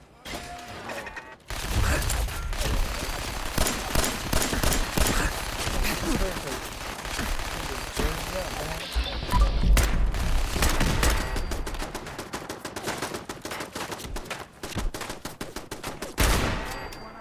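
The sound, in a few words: pistol gunfire in the video game Fallout 4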